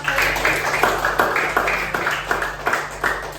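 A classroom group claps together in a steady, rhythmic beat at a lesson on Islamic giving, infaq and sedekah, close by and fairly loud over a low electrical hum.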